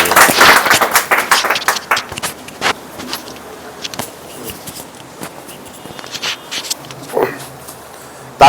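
Clapping from an audience at a seminar in Bhager, Bilaspur district, Himachal Pradesh, strongest in the first two seconds and then thinning into scattered claps with background chatter and movement.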